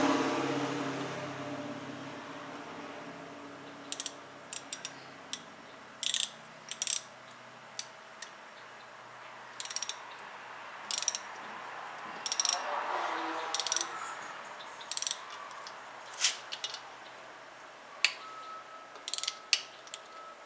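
Ratcheting clicks from a wrench tightening a part during assembly of a 5 hp Briggs and Stratton engine, arriving in short bursts of quick metallic ticks with pauses between, fairly close and alone.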